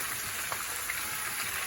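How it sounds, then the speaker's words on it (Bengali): Chicken pieces frying with salt in a pan give off a steady, close sizzle with soft crackling throughout, no voices over it. "লবণটা দিয়ে আমি প্রথমেই একটু ভেজে নেব"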